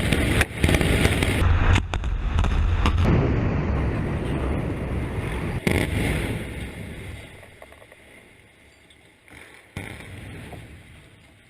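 Dynamite brings down an old Florida Power & Light power plant: a loud, sustained roar and rumble with sharp cracks, slowly fading over about ten seconds, heard from a distance with no talk.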